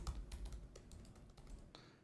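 Someone types a password on a computer keyboard in a quick, irregular run of soft key clicks, faint and close, with a low rumble underneath and no talking.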